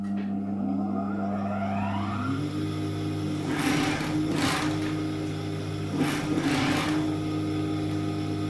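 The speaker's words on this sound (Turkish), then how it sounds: "Ve lastiğimi dikiyorum." Sewing machine stitching an elastic band onto homemade pajamas, a steady close mechanical whir with two louder bursts of fast stitching partway through, no talk.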